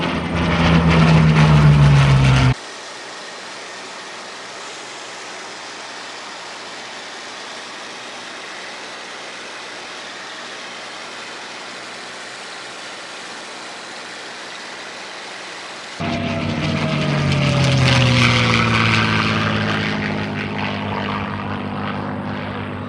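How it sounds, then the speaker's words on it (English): A loud Packard Merlin aircraft engine, in a Spitfire, drones steadily, with a continuous propeller roar that swells and shifts in pitch as the plane passes. "The 100 horsepower Packard Merlin engine."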